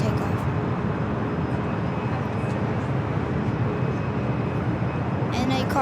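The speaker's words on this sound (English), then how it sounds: "American Airlines flight 2002 taking off to Las Vegas on the A321neo is rolling down on the south side." An American Airlines Airbus A321neo jet rolls down the south runway at LAX on its takeoff run, a steady, loud engine roar that holds throughout.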